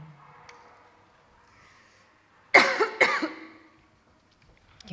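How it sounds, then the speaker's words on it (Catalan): A lecturer gives a couple of sharp, close coughs that break up a Catalan philosophy talk, then the room goes quiet. "Quin mal moment per tenir tos."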